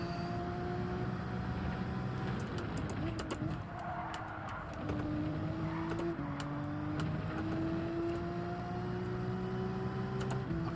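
A Porsche race car engine in the video game Gran Turismo 7, droning steadily at moderate distance with its pitch rising through gears and shifting, faint and continuous, with soft talk occasionally over it.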